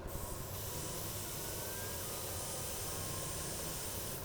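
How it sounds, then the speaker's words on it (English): A heat gun blowing hot air, a steady close broadband hiss and whoosh with a faint motor hum underneath, constant throughout with no talk. "I'm going to be using my heat gun."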